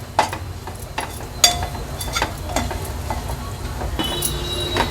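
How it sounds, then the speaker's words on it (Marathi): Spices sautéing in hot oil for a spicy Agri-Koli style mutton paya curry, a soft steady sizzle with occasional sharp clinks and stirring scrapes from a utensil against the pan, close by. "आता हे सर्व मसाले आपल्याला तेलावर छान परतून घ्यायचे आहेत"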